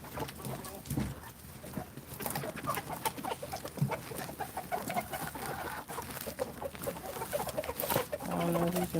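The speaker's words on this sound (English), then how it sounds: "These the first chickens that we got." Backyard chickens clucking close by, with repeated short clucks and murmurs scattered throughout, with little else competing.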